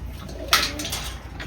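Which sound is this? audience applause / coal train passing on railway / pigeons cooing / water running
pigeons cooing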